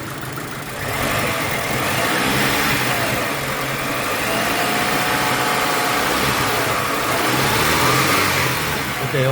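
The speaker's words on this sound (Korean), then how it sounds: "제가 가속 페달을 밟아봤어요." A 1993 Hyundai Sonata DOHC 16-valve engine with an air-fuel ratio fault, revved hard as the accelerator is pressed on a cold day, rising and falling in repeated loud swells over a steady idle.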